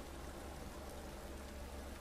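Heavy rain falling over a motorcycle racing circuit in MotoGP 17, a steady wash of dense hiss and low rumble with no breaks, even and continuous throughout.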